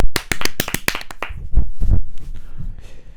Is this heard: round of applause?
yes